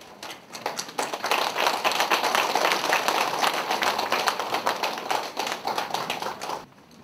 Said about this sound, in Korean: 힘찬 박수로 맞아주시면 고맙겠습니다.